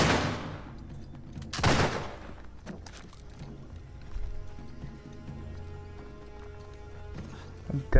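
Flintlock pirate pistol firing in Uncharted 4, loud sharp reports near the start and middle, then quieter clattering and scattered thuds with low game ambience between them.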